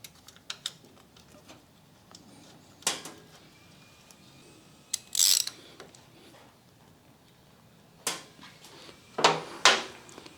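Hand ratchet clicking as it tightens a bolt with a rod and spring on a 2021 Honda Super Cub, with scattered close mechanical clicks and several louder bursts of rapid ratcheting amid quiet workshop handling noise.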